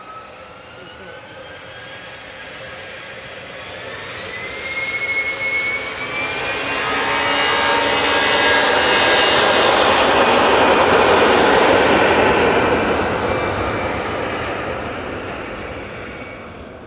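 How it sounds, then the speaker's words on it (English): EasyJet airliner departing Manchester Airport for Paris Charles de Gaulle, jet roar swelling from moderate to a loud peak midway with rising whine tones, then easing slightly as it passes, no talk. "EasyJet now off to Paris Charles de Gaulle."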